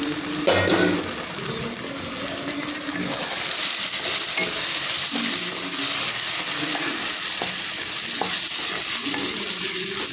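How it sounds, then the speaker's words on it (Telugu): Brinjal slices frying in an Andhra-style eggplant stir-fry, sizzling steadily in a pan with the scrape of a spoon stirring now and then, close and fairly loud, with no talk. "పచ్చివాసన పోయేంత వరకు వేగాలి."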